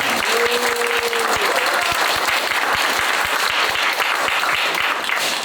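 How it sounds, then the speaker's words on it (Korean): An audience at a campaign monitoring team launch event applauds steadily and densely throughout, a loud continuous wash of clapping with a faint tone in the background. "우리 동지들 위해서 다시 한번 박수 부탁드립니다."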